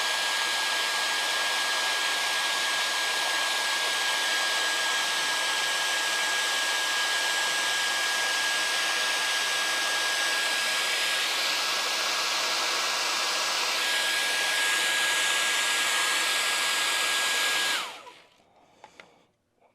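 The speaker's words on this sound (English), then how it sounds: "use a hairdryer" A small regular hairdryer runs continuously and loudly on a freshly painted N scale model vehicle, a steady broadband roar with a thin whine, then switches off and winds down near the end.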